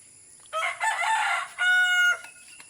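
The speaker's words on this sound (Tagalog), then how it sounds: "ang barako na basilan na manok." A Basilan gamecock crows loudly nearby, a single drawn-out call in two rising and sustained parts, with quiet surroundings and no talking.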